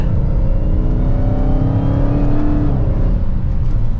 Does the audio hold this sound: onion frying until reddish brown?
no